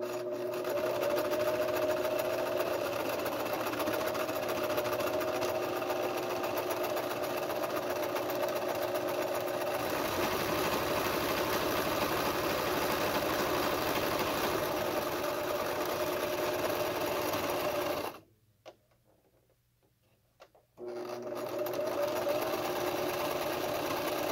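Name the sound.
sewing machine sewing the hem of a cloth face mask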